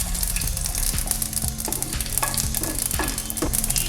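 Mustard seeds, cumin and garlic sizzle in hot oil in a kadai, a dense, steady crackle with regular scraping strokes of a stirring spoon cutting through it.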